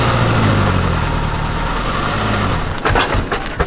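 A car engine running steadily during a manual-transmission driving lesson, a low continuous hum that drops off near the end, followed by a few short bumps and clunks.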